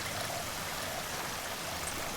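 Water streams steadily into a flooding church in the video game DrainSim, a constant broadband rushing and trickling wash with no pauses, fairly close and alone.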